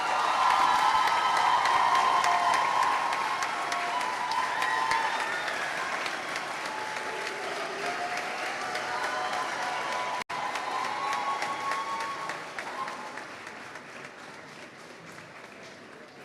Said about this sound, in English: please join me in applauding the graduating class of